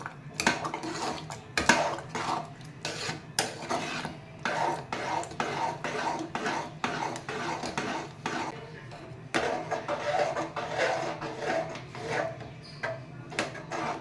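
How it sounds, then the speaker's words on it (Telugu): Curry is stirred continuously in a pot with a spoon, a close run of repeated scraping and clanking strokes against the metal, steady and uneven in rhythm, with no talk over it. "ఇది కంటిన్యూషన్గా తిప్పాలండి, ఆపొద్దు."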